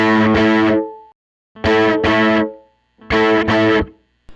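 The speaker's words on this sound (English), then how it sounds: "when you roll it all the way up, you have the big, fat, big humbucker" A thick, distorted Teye Coyote electric guitar with humbucker pickup tone rolled fully up plays three loud sustained chords with short gaps between them, full and fat in tone.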